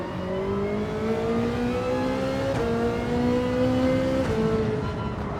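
Race car engine in Gran Turismo 7, a steady rising drone that climbs through gear shifts with brief dips at each change, close and continuous without speech.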